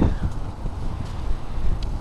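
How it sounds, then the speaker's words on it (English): Steady low rumbling wind buffets the microphone throughout on a bay, a continuous gusty roar with no voices. "It's too windy."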